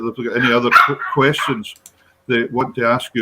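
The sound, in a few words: dog barking on the couch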